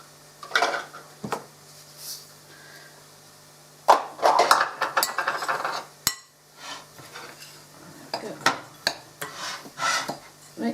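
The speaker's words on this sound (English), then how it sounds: "So I'm going to add the dry ingredients first, and the reason I'm doing that is just makes it easier to mix them all together." Dry ingredients for a nut roast are mixed in a bowl, giving bursts of a spoon scraping and clinking against the bowl between pauses, with some knocks and brief speech nearby.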